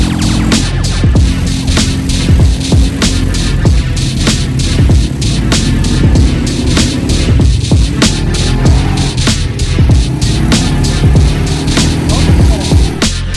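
A quad bike riding over desert sand dunes, its engine a loud, steady, throbbing drone with irregular bumps and rattles, close to the listener and continuous throughout, with no talking.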